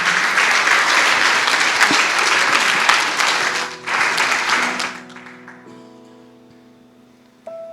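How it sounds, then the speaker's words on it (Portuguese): Congregation applause at a Christmas church service, loud sustained clapping for about five seconds with a brief dip midway, then fading out as sustained keyboard or organ chords take over. "Aplauda o nome do Senhor."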